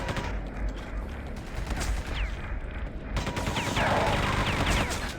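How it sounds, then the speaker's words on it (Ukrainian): Machine gun fire in Quake 2 RTX in a hellish cave level, with bursts of rapid shots layered over a rumbling game soundscape, fairly loud and close, getting heavier near the end. "Так, є кулемет"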